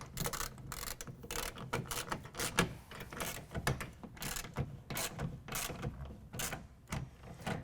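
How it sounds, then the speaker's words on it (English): A clamp on a Gator SR2 roll-up tonneau cover is tightened onto the side rail of a Dodge Ram 1500 truck bed, producing a quiet, continuous run of rapid ratcheting clicks and small metallic ticks, close by, with no talk. "I'm going to go ahead and tighten this down to the side rail"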